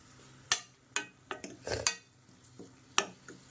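Methi leaves and tomato curry cooking in a pan, with sharp metal spoon scrapes and clinks against the pan at irregular intervals over a faint sizzle, close and fairly quiet.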